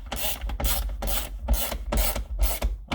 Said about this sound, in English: Now that I've got all my Torx in, I can tighten these down.